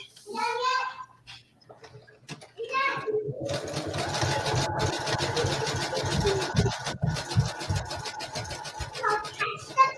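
A sewing machine stitching a quilt block runs in a fast, buzzing whir for several seconds after the pedal is pressed hard, with a child and an adult talking before and after the run.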